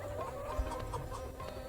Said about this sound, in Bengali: মুরগি পালাচ্ছে।